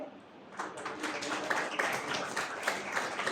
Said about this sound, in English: That needs your great round of applause for that.